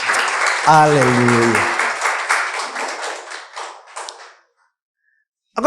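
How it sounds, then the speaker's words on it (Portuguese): A church congregation applauds, steady clapping under a raised shouting voice; it tapers off into silence before a brief new burst at the very end. "Você pode aplaudir a Jesus?"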